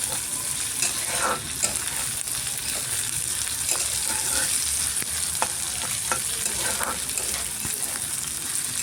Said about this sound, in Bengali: কাঁচা লঙ্কা দিয়ে দিলাম, 2 মিনিট হালকা করে ভেজে নিচ্ছি।